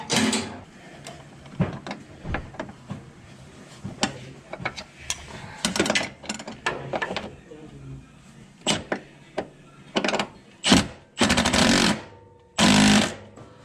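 Tools work on a Toyota 4Runner air system install in a garage as a wrench tightens a fitting, giving a series of sharp ratcheting clicks and short mechanical bursts, louder toward the end, with brief speech mixed in.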